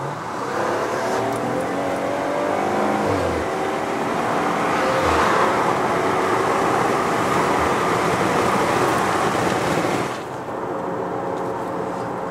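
Maserati Quattroporte cruising on an expressway, a steady, broad rush of engine and road noise heard from inside, easing slightly near the end.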